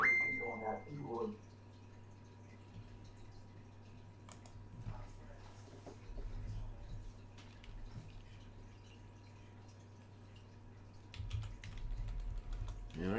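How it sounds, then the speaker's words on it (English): Someone types on a computer keyboard that lacks an enter key, producing quiet scattered clicks and keystroke bursts with pauses, faint against a low steady hum, with occasional talk in the room. "Man, I can't type for anything tonight."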